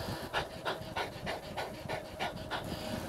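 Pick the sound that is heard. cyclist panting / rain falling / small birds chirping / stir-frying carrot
cyclist panting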